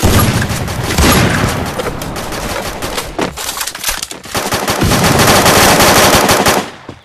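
Rapid automatic gunfire in the video game Free Fire, loud sustained bursts of shots with a brief pause in the middle before firing resumes, no talking.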